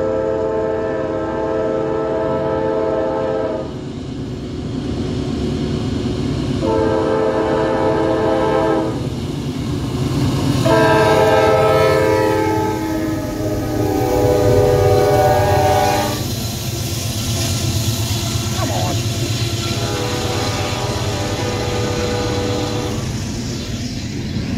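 A northbound CSX mixed manifest freight train rolls past on track one, its rail noise loud and continuous while the horn sounds in several long, steady blasts separated by short breaks.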